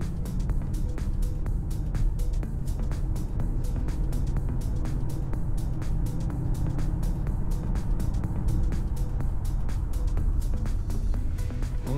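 An Audi S8 with a 5.2 V10 drives on a road test after an ABS unit fault and brake bleed, heard as a steady low cabin road rumble with faint rhythmic ticking throughout and no speech.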